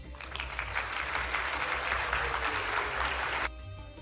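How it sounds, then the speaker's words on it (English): An audience at an international halal dialogue forum gives steady, moderately loud applause for several seconds, stopping abruptly near the end as music continues underneath. "give a big applause to all of us"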